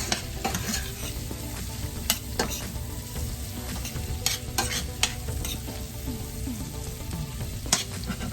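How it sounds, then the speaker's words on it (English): Chicken legs sauté in unsalted butter with a dense, even sizzle and crackle, and sharp clicks of a utensil against the pan at scattered moments. "saute these nice and right"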